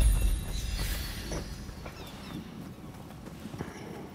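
Horse hooves clip-clop in the video game Rise of the Ronin, a brisk run of close, moderately loud hoofbeats that eases off toward the end, with no talk.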